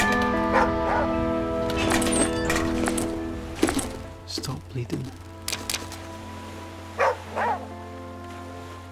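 A dog companion barks in the survival game The Flame in the Flood, a few short yips scattered over a humming game soundscape with a steady drone while someone talks across it.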